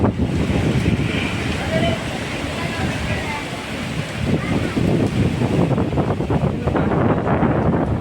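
Strong summer storm wind roars steadily across the microphone in loud, buffeting gusts, with a broad rushing noise throughout.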